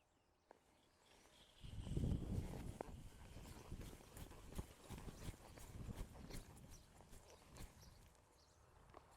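Horse trotting on a soft surface, steady faint rhythmic hoofbeats that swell in the middle and fade, with light background noise and no talking.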